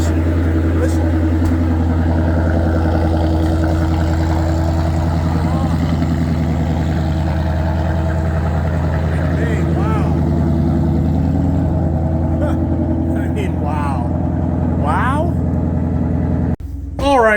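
A combustion car engine idles nearby with a steady low hum and throb, someone talking over it before the sound cuts off near the end.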